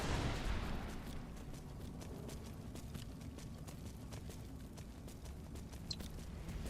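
Arvak, the skeletal horse in the video game Skyrim, clip-clops in the Soul Cairn with steady, fairly faint hoof falls over a dense, rumbling ambient background.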